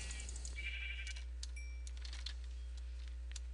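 Sheep bleating in Minecraft, a short game sound effect heard over steady background hum with faint clicking, with no one talking.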